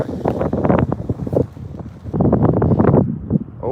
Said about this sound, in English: Quite windy all of a sudden.